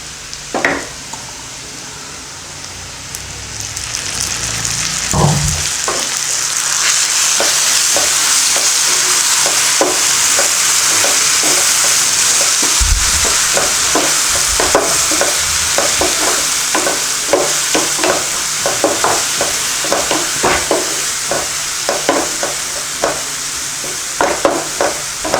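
Ground green paste frying with sautéed onions for egg fry, a steady sizzle rising after a quieter start, punctuated by repeated close spatula scrapes and taps against the pan.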